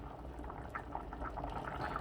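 Chicken gola kabab pulao rice simmering in a pot on lowered heat, with a steady bubbling boil and soft popping throughout, close and moderately loud, no talking.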